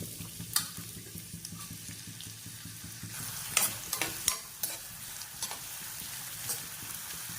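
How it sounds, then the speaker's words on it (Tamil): Chopped onions fry in hot oil in a pan for a cauliflower gravy, with a steady soft sizzle under repeated scraping stir strokes and occasional sharper clinks of the spoon against the pan. "எண்ணெய் ஊற்றிட்டு இதில் இப்போ வந்து நறுக்குன்னு வச்சுருக்கேன் வெங்காயத்தை வந்து நான் போட்டுக்கிறேன்"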